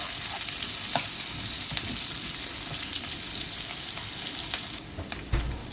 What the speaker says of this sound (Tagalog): igisa natin ang sibuyas. Haluin lang po natin hanggang sa mag-caramelize.